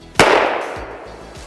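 A single sharp, loud gunshot from a .45 ACP Black Talon round fired at body armor, cracking close and decaying into a brief echoing tail.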